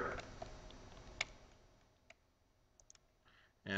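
Computer mouse clicks while working in CAD software, a few sharp, faint, isolated clicks spaced out over a quiet background.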